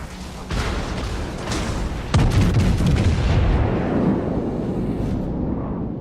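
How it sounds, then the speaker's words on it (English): A heavy naval gun salvo from the USS Alabama battleship in World of Warships, two deep booming blasts about a second and a half apart, each with a rolling rumble that fades out. "Better salvo there, doing a lot more damage to him"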